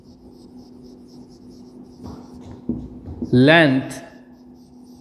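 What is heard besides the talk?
teacher writing on the board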